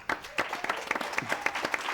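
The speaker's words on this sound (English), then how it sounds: "So please, a round of applause for" A small audience at an education symposium claps for the panelists, the individual claps sharp and fairly distinct in a quick, uneven patter, moderately quiet and with no talk over it.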